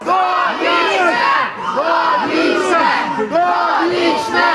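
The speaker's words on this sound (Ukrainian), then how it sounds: "На вулиці один натовп вигукував волю, інші кричали довічне." A large crowd outside a courthouse shouts a rhythmic chant in unison, loud and close, voices rising and falling together.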